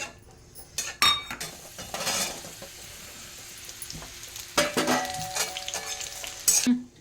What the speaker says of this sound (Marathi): मनुके आता हे मनुके याच्यात हे परतून घेऊ आपण तुपामध्ये.